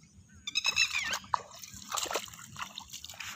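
Water seeps and trickles from forest ground, with soft splashing and sloshing dribbles close by, quiet between small bursts.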